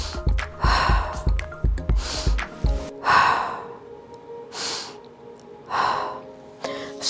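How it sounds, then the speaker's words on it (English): Deep, slow breaths during a Pilates mat stretch, several long airy inhales and exhales spaced a second or two apart, close and clear with a light rhythmic tapping early on. "Take 3 deep breaths."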